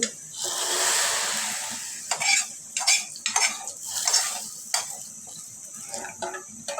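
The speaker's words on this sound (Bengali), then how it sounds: "তো এই ডালের বাগাটা দিয়ে" Tempering poured into a pot of lentil dal, a brief hissy burst of sizzle followed by clattering, scraping stirs of a metal utensil against the pot, close and irregular.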